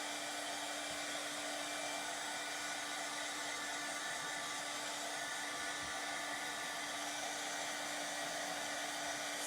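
A hair dryer blows steadily on painted wooden blocks, a constant whooshing whir with a faint hum that stays even and unbroken throughout, with no talking.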